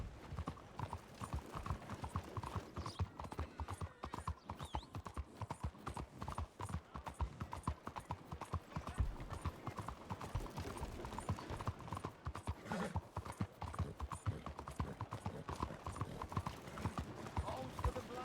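Hooves clip-clop steadily and rhythmically as a horse is ridden in a video game, the continuous beat running throughout beneath some voices.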